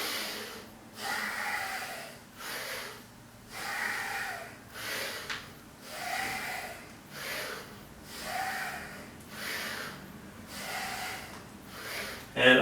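A person breathing heavily through a home warmup exercise, slow rhythmic inhales and exhales repeating about every two seconds, close and moderately loud.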